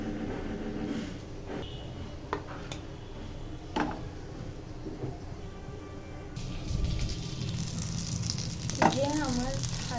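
Pumpkin flowers frying in a pan, a steady close sizzle with occasional utensil clicks and scrapes, the hiss swelling louder toward the end.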